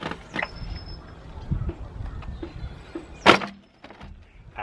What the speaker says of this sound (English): Let's try and get these pipes off the throttle bodies now.